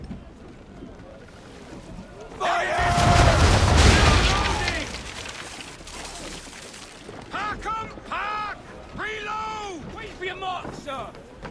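A frigate's cannons fire a broadside in Assassin's Creed III, a long rumbling boom of blasts at sea, followed by voices talking.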